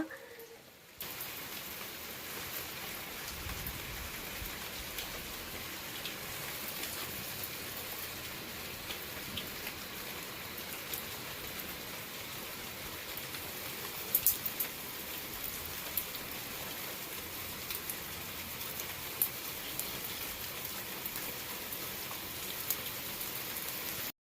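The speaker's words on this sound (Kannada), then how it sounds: "ಮಳೆ ಶುರು ಆಯಿತು ಮಳೆ ಬರೋಂಗೆ ಇರಲಿಲ್ಲ" Steady rain falls on a rooftop terrace garden full of flowers and fruit plants, a dense, even patter that holds for the whole stretch with a few sharper drops standing out near the middle.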